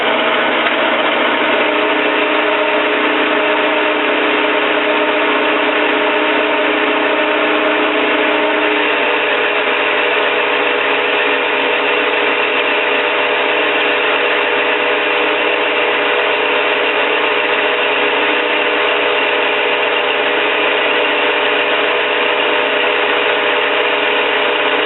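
A machine tool takes a heavy, aggressive cut with carbide tooling, giving a loud, continuous grinding drone that holds steady from start to finish.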